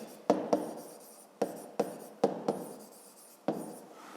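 Handwriting during a fifth-grade math exercise: a pen or pencil scratches out short strokes on paper in an irregular rhythm, about eight quick marks separated by pauses, close and fairly quiet.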